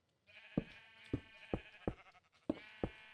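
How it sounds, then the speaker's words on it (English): Blocky Minecraft sheep bleat repeatedly, six short nasal baas at a steady pace, near and clear, with no talking over them. "Gotta be careful not to lose the sheep while we're doing this."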